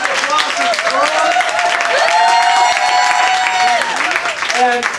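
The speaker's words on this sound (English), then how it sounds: "a special round of applause to Carl" Audience applauding at a limerick comedy show, a dense, loud, continuous wash of clapping with a voice speaking over it throughout.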